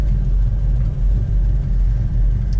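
A 1969 Dodge Charger SE General Lee tribute car idles nearby, its engine giving a steady, deep, loud rumble with slight pulsing and no voices over it.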